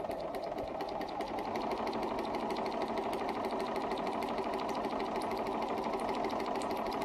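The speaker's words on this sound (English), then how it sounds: "I want you to sew to about the top. Try going fast, try going slow," A sewing machine stitching a curve in fabric, running at a steady, fast, even rhythm with continuous mechanical whirring and ticking close by and no talking.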